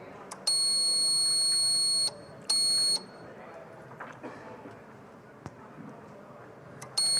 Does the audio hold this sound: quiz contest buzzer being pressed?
yes